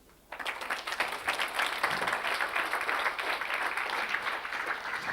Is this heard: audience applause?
yes